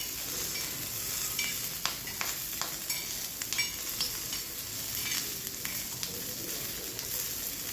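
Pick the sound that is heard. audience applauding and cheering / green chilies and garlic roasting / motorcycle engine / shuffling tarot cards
green chilies and garlic roasting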